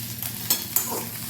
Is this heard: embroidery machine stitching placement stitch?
no